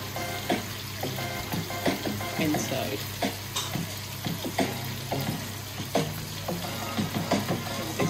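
Yam slices sizzle and crackle steadily in hot olive oil in a pan, with scattered stirring clatters and a brief spoken word.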